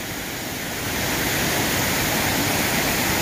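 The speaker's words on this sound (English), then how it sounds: "amazing waterfall." Steady, dense roar of Laurel Falls in the Appalachians, loud and continuous with no breaks, swelling slightly after the first second.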